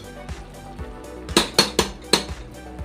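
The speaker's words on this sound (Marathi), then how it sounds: "तूप घालून घेतल्यावर वरच्यावर जरासं ढवळून घ्यायचं आहे" Biryani rice being stirred in a pot after adding ghee, with a few sharp metallic clanks of a utensil against the pot in quick succession amid softer scraping, close and clear.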